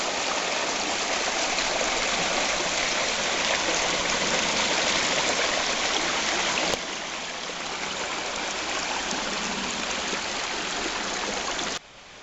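Continuous rushing water of Malta Waterfall in Menderes, Turkey, loud and steady, dropping abruptly in level partway through.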